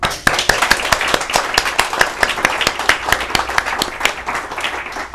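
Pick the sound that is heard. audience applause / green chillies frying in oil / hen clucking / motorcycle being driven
audience applause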